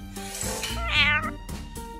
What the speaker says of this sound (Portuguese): Foi o gato